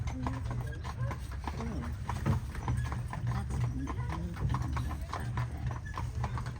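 Steady clip-clop of carriage horses' hooves on pavement in Bavaria, nearby and continuous, with people talking over it and a whinny faintly in the mix.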